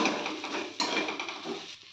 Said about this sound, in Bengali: এবার মশলার সঙ্গে চিংড়িগুলোকে খুব ভালোভাবে একটু কষিয়ে নেব।